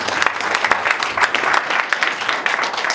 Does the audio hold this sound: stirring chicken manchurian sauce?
no